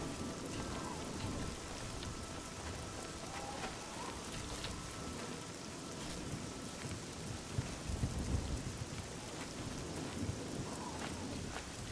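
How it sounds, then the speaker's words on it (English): Steady, dense rainfall in the video game Oblivion, a continuous hiss with a low rumble swelling near the end, heard on its own without talk. "Do they hide from rain or something?"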